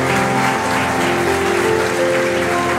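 A church congregation claps together, loud and dense, with sustained musical tones from instruments or voices running underneath the steady applause.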